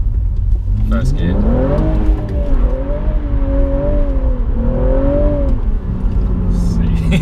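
BMW M135i accelerating hard in first gear on a winter road, engine note climbing and holding in a loud steady drone, rear wheel spinning on slippery surface with traction and stability control on, under a voice.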